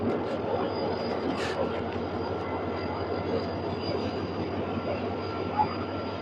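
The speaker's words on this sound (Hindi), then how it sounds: "कराची से चलने वाली हज़ारा एक्सप्रेस।" Hazara Express train from Karachi rolling past at close range, a loud continuous rumble of wheels and railcars with steady clatter and a brief squeal, sustained throughout without pause.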